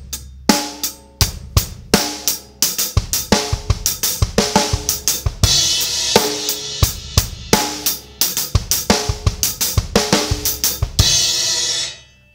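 Drum kit with kick, snare and hi-hat played as a one-measure fill in repeated patterns, loud close strikes in rapid sixteenth-note runs with cymbal crashes, alone without talk.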